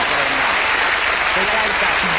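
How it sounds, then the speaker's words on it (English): Studio audience on the ITV game show Blankety Blank bursts into steady, loud applause, a dense wash of clapping that fills the whole brief moment. "Give me a huge round of applause."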